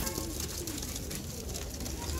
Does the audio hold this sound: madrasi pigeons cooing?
yes